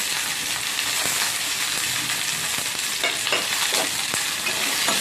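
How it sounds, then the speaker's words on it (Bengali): Green chillies, garlic, ginger and tomato frying in a pan, a steady loud sizzle throughout with the soft scrape and clack of a spoon stirring now and then. "একটু ভালো করে নাড়াচাড়া করে নেব।"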